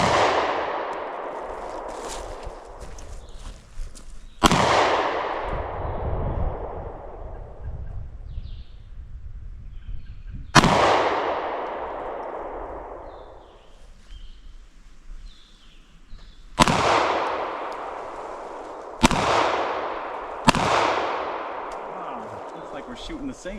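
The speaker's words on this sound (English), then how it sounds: "So I'm gonna shoot a little bit of my handguns" Handgun shots ring out at hanging steel targets outdoors near an off-grid cabin in Vermont, six sharp cracks spaced irregularly, each followed by a metallic clang and a long fading ring, with some faint talk between them.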